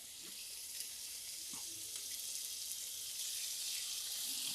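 Chicken cutlets sizzle in a hot oiled skillet, giving a faint, even, high hiss that holds steady throughout with no talking.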